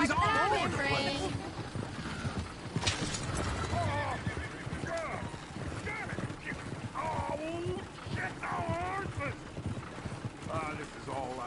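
Horses in Red Dead Redemption 2 whinny repeatedly over steady clip-clopping hooves, with game voices talking throughout alongside the animal sounds.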